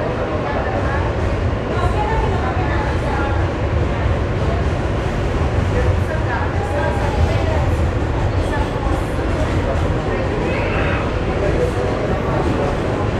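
A New York City subway train rumbles loudly between two cars on a Brooklyn line, with a constant roaring wheel and track noise, occasional metallic squeals and voices talking underneath.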